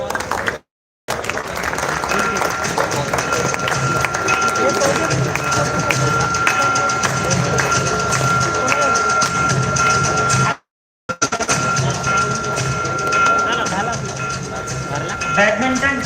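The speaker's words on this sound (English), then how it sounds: "Let's welcome him with the big round of applause" Applause for an award winner at a hostel annual social gathering: a dense, sustained crowd clapping, broken by two brief silences, with a voice over an amplified system at times.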